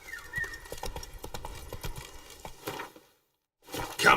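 Roach, the horse in The Witcher 3 video game, trots with steady rhythmic clip-clop hoofbeats, breaks off into a brief silence, then moves again.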